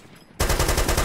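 Gunfire in DayZ Origins: an abrupt burst of rapid automatic shots, loud and close, firing in a steady fast rhythm after a quiet moment.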